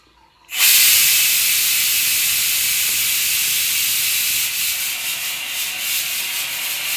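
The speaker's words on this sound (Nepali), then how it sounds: "त्यही भएर कुकरको सिटीको पनि आवाज आइरहेछ।" Pressure cooker in a home kitchen venting steam, a loud, continuous close-up hiss that bursts in abruptly after a quiet moment and holds steady, wavering slightly toward the end, with no talk.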